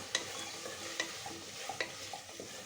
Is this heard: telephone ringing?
no